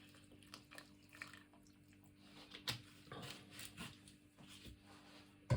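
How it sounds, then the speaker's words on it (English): Water trickles and splashes intermittently at close range as it is poured into a blender for a pineapple smoothie, a soft pouring sound with a few brief louder splashes. "So I'm gonna add a little bit of water."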